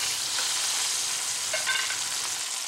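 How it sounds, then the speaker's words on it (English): Pork chops sizzling steadily in a hot pan, a dense crackling hiss with a few faint pops, close and continuous. "You can start to hear a little sizzle."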